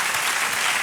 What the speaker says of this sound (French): Applaudissements pour toute l'équipe.